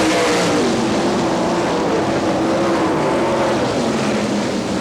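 Race cars of the NCRA All Stars run on a dirt track in Wichita, Kansas, making a loud, continuous, close engine roar with no break.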